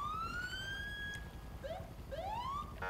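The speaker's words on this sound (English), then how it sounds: "Full lights and sirens." Video game police boat siren: a close electronic wail that rises and falls in sweeping tones, briefly dipping before climbing again, heard alone without talk.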